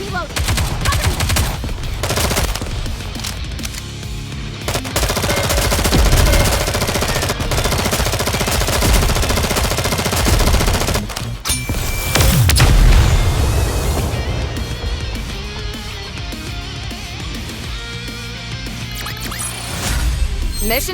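Rapid automatic gunfire and booming blasts from the mobile shooter game Nikke: Goddess of Victory, loud and sustained in dense bursts with brief lulls, layered over game music.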